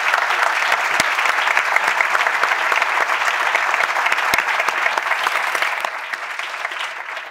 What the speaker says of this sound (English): If we can please give them a round of applause.